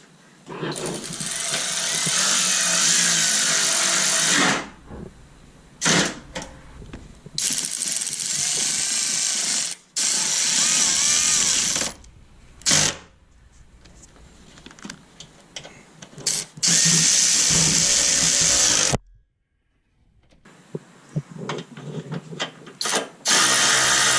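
Bolts on a 2006 Honda Civic VVT solenoid being tightened down with a ratchet, sounding as loud, close bursts of rapid clicking broken by short pauses and near-silent gaps.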